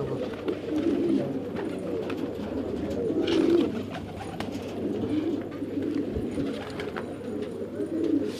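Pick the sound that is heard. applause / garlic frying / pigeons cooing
pigeons cooing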